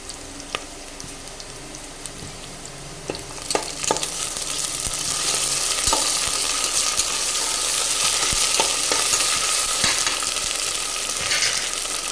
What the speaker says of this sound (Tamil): வெங்காயம் வந்து நம்மளுக்கு நல்லா வதங்கிட்டு இருக்கு இப்போ இஞ்சி பூண்டு பேஸ்ட் சேர்த்துடலாம்